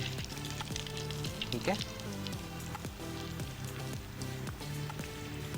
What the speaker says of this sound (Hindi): और साथ ही साथ हमारे पास फ्राइंग भी हो रहे हैं।